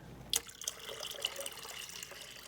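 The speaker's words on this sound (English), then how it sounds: "So the first thing I'm going to do is get the water, so it has to be warm tap water" Warm water runs from a tap into a jug, a quiet steady splashing stream with a few sharper drips and spatters at the start, with no voices.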